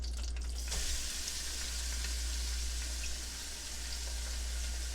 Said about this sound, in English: I'm going to add in 2/3 cups of chopped onion